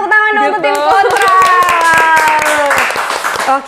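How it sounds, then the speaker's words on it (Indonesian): Applause for the opposing team at a talk-show debate: quick, loud handclaps tap out in a rapid run beneath voices and music that dominate throughout. "tepuk tangan dong untuk tim kontra"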